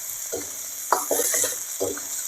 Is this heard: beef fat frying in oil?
yes